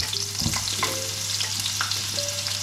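Onions frying in a pan at home, a steady close sizzle with occasional scrapes and clinks of a utensil stirring, under a constant low background hum.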